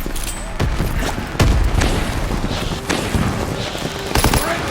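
Gunfire and explosions from a World War II battle in Call of Duty: WWII, with dense shots and several heavy booms including a grenade blast, loud and close, mixed with shouted voices.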